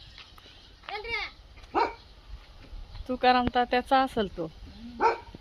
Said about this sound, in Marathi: डॉग आहे इथं.